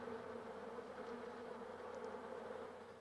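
Honeybees buzzing in a steady, faint drone with a constant hum, no voices, sustained evenly throughout.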